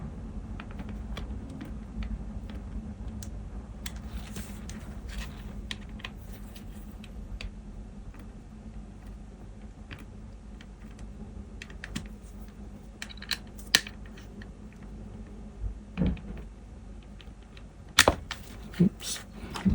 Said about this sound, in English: Let's tighten them up now with my favourite screwdriver.